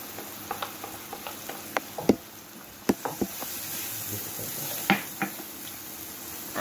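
Onion frying in a pan alongside scallion while cooking garlic butter chicken breast; a soft, steady crackle sits under scattered light knocks and clicks from stirring, fairly quiet and close.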